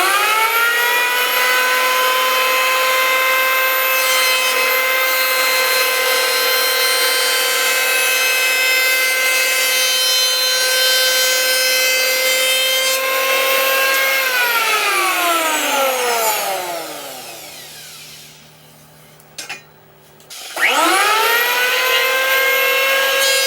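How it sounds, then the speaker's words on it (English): A Jellas power hand planer runs loud and steady on wood, its motor whining with strong tones, then winds down and drops to near silence before starting up again and revving back to full speed. "So let's go ahead and do some planing now."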